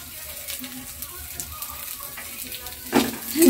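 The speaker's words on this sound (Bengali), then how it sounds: "তেলটা গরম হয়ে গেছে তো আমি কয়েকটা নারকেলগুলো দিয়ে দেবো একদম হালকা করে ভাজবো" Coconut pieces fry lightly in hot oil on a home stove, giving a soft, steady sizzle and crackle with a few louder spatters near the end.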